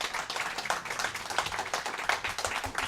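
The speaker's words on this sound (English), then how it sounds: "Please give a round of applause to our panelists and to yourselves" Audience at a panel discussion on AI and election disinformation gives a round of applause, a room full of hands clapping in an even, brisk, continuous patter at close range, with no talking over it.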